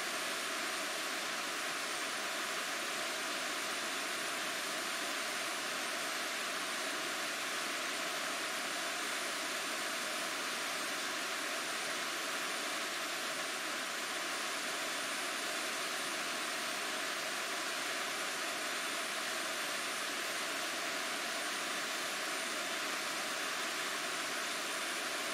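A Boeing 737-800 airliner in the Prepar3D flight simulator spools up its jet engines for takeoff from Innsbruck, a steady broad roar that holds loud and unbroken throughout with no voices.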